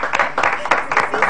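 A television studio audience gives a short burst of close, rhythmic clapping for a cook, the claps loud and distinct, with a voice briefly mixed in.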